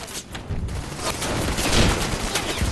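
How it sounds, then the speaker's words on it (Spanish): Dense, rapid bursts of German machine gun fire in a WWII battle crackle continuously, loud and chaotic, with no pauses. "Tabb sucumbió a los disparos de las ametralladoras alemanas."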